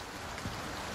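Steady, dense rain hiss from the video game Resident Evil 4 Remake, an even broadband wash with no breaks, moderately loud and with no voices.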